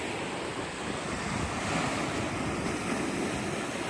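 Steady ocean surf washes and rumbles continuously at Corito Bay Beach, a small secluded beach, mixed with gusty wind buffeting the microphone, no voices.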